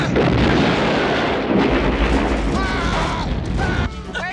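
Booming gunshots from a movie soundtrack, loud and dense, rolling continuously with heavy low rumble and layered effects for several seconds before cutting off near the end.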